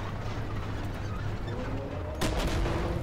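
A single heavy tank cannon blast from a Type 85-IIM in the video game Armored Warfare, sharp and loud over a steady rumbling engine drone, followed by a short echoing tail.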